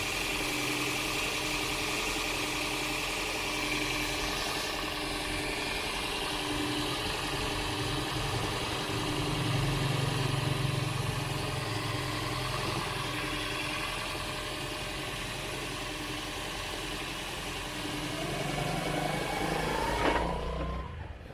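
A Toyota Prius hybrid engine idles steadily at close range, started by the air conditioning to charge the hybrid battery, a continuous low hum with a slight rise near the end and no talking.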